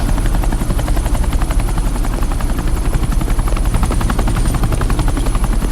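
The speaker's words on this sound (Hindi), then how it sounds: "ये हेलीकॉप्टर सीधे एयरपोर्ट के टारमैक पे लैंड होगा।" A helicopter flies in to land on an airport tarmac in an action film; its loud, continuous rotor throb and engine drone fill the whole stretch without pause and with no talking.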